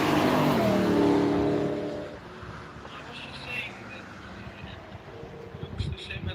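Race cars pass on the Nürburgring track with a loud rushing roar that swells and fades over the first two seconds, then give way to quieter distant engine noise and wind.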